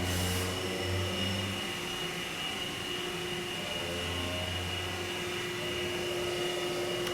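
Factory machinery runs steadily while turning bar stock into bicycle crank tools, giving a loud, continuous mechanical drone with a sustained tonal hum and no talking.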